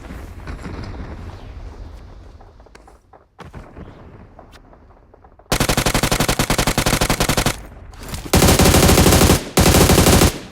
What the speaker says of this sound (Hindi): तो जैसे ही मैं उतरता हूँ वैसे ही मेरी गन फाइट हो जाती है